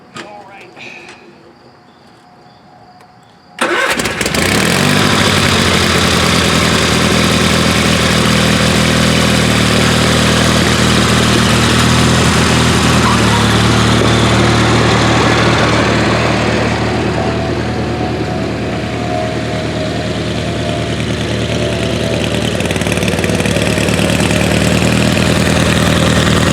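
A Craftsman GT6000 garden tractor engine cranks and starts abruptly after a quiet moment, then idles loudly and steadily with a constant droning rumble nearby.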